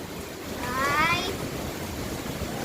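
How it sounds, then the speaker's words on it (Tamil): Strong wind blows with rain falling, a steady broadband rush throughout, with a brief voice rising above it partway through. "எவ்வளவு காத்து அடிக்குதுன்ட்டு. மழை பெய்யுது இங்க"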